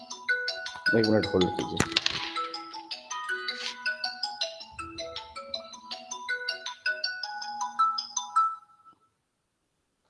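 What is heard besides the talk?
phone ringtone, incoming call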